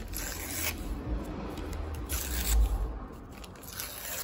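Scissors trim the edges of a sheet of paper, giving a few close, soft snipping and scraping cuts in quick irregular succession.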